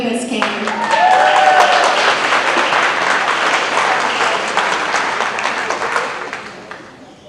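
Audience applause fills a school district town hall for Miami-Dade County Public Schools District 3, with dense sustained clapping for several seconds before it tapers off at the end. A brief voice sits faintly underneath.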